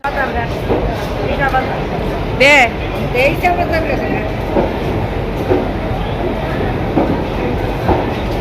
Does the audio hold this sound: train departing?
yes